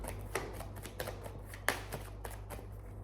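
Playing cards handled and drawn from a deck during a tarot-style reading, with soft brushing and scattered light flicks, including one sharper snap, set against a steady low hum and without talk.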